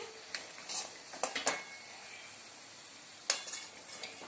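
Leaf-shaped goja sweets frying in oil with a faint continuous sizzle, broken by several sharp scraping clinks of a utensil lifting them out of the pan.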